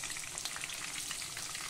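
Chicken pieces browning in hot oil in a frying pan for a curried chicken dish, giving a steady, dense sizzle and crackle close up, with no talking.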